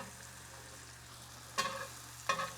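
A grilled cheese sandwich with loose cheese frying uncovered in butter in a pan gives a faint, steady sizzle, broken by two brief louder scraping bursts as it is shifted, with no talking.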